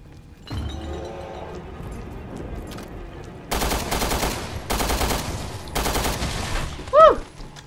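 Bursts of automatic gunfire from Resident Evil Revelations 2, three loud rapid volleys following a quieter stretch of ambient game sound, with a sharp tonal chirp near the end.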